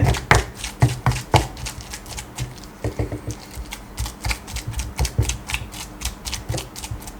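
Steady rhythmic pounding of a pestle in a stone mortar, making Thai sour curry paste with fish, repeated thuds at an even pace, close and fairly loud with no talking.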